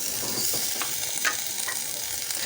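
Cauliflower and carrot frying in a spice masala, a continuous close sizzle broken by a few sharp stirring scrapes and clicks.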